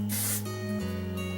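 A single short hiss of Toni&Guy hairspray applied to hair, close up, over a steady low background hum that carries on after the spray stops.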